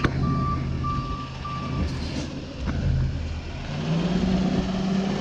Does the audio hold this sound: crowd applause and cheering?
no